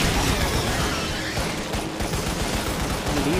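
Gunfire and grenade blasts in the Lost Planet video game, a dense continuous rattle of shots and booms filling the whole stretch at steady loudness.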